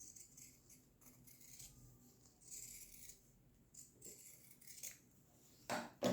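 Scissors snip through wallet lining fabric in a few close, quiet cuts with pauses between, ending in a sharper metallic snip.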